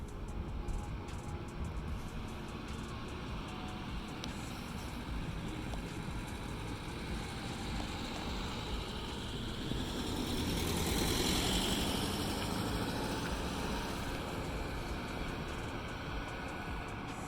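A 1967 VW Type 3 Squareback with engine trouble drones steadily while driving, a low continuous engine hum with road and wind noise that swells briefly midway, heard from inside without talk.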